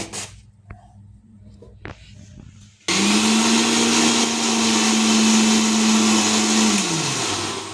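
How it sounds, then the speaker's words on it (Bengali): An electric blender whipping oil into homemade mayonnaise starts abruptly after a few quiet knocks and runs loud and steady for about four seconds before spinning down. "অল্প অল্প করে দেব আর ব্লেন্ডার করবো"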